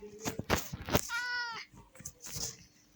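In Minecraft, a cat meows once, a drawn-out, tonal mew in the middle, surrounded by soft clicks and taps.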